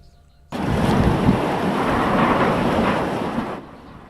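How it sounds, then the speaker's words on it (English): Typhoon Haima drives howling winds and huge waves along the southern China coast, a loud broadband roar that cuts in abruptly, holds for about three seconds, then drops away. "Typhoon HAIMA is blowing through southern China with high winds and waves over 10 meters tall."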